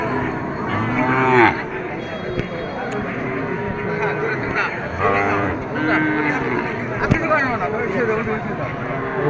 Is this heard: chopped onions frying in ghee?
no